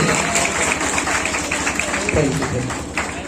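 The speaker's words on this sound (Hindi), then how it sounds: "ताली रुकनी नहीं चाहिए" Steady applause from an audience at a school academy's foundation day celebration, continuous and dense across the whole stretch, with a voice speaking over it.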